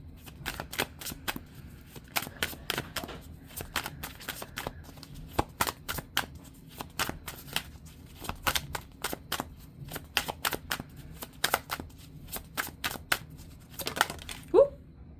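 Oracle cards being shuffled by hand, a long rapid series of crisp riffling snaps and clicks, close and fairly quiet, with brief pauses between bursts and a faint voice near the end.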